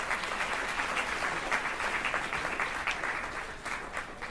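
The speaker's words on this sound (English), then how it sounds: "let's give another round of applause for Mr. Knight." An audience applauds a speaker with steady, dense clapping that holds at an even level throughout, heard from some distance in a hall.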